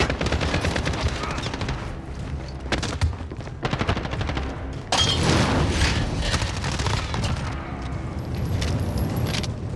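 Bursts of rapid SMG fire in a Call of Duty match, loud and close, with short pauses between bursts and a heavier, denser stretch of shooting near the middle.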